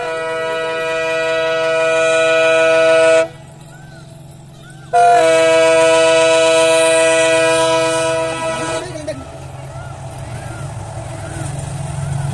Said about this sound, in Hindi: ये जो ट्रेन है वो चलने के लिए तैयार हो जाएगी